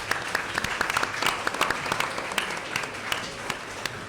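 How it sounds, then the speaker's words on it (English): Audience applause at a League of Women Voters evening forum in Canton, Ohio: steady clapping from a crowd throughout, moderately loud and dense, with scattered sharper claps standing out. "please applaud for the crowd who's here tonight"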